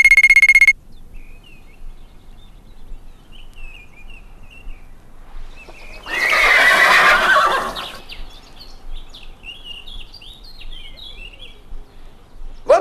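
A horse gives a loud, bright whinny lasting about two seconds near the middle, with a short shrill sound at the start and faint chirping and scattered noises around it, in a Dutch fairy-tale recording about a farmer with one horse.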